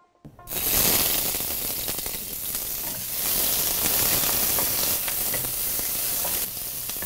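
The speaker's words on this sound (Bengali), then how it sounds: "তেল গরম হয়ে গেছে। জি, আগে পেঁয়াজ কুচি দিচ্ছি।" Chopped onions hit hot oil in a pan and burst into loud, continuous sizzling and crackling frying that holds steady throughout, with no talking.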